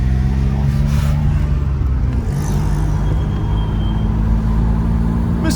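Forty-year-old Peugeot driving on the road, its engine humming steadily from inside the cabin with a low, constant drone and road noise, no talking.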